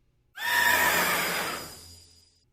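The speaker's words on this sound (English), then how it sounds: "Swift Horse, and its cry sounds like this." Spectrier, the horse Pokémon from the video game, gives its cry: one loud, bright whinny that swells fast and fades away over about two seconds, heard on its own.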